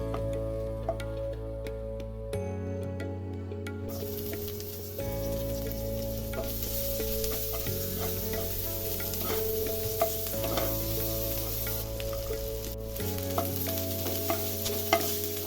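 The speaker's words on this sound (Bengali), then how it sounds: "প্রথমে কালো জিরা দিচ্ছি একটু নেড়ে চেড়ে পেঁয়াজ কুচি আর কাঁচামরিচ দেবো" Nigella seeds with chopped onion and green chillies fry in hot oil as a base for a thin Bengali fish curry, a steady close sizzle with repeated scraping stirs of a spatula against the pan and a low background hum.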